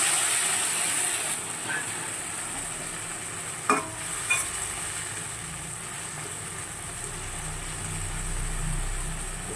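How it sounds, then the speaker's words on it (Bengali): Kochur loti (taro stolons) sizzles steadily in a pan just after a little water goes in, a soft even hiss with a couple of brief clinks from stirring, no voices. "লতিটা সিদ্ধ হওয়ার জন্য একটুখানি জল দিয়ে দিলাম।"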